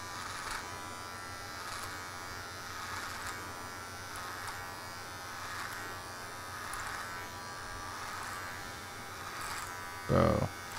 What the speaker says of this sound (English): I'm going to do it with clipper close.